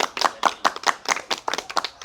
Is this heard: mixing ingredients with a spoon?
no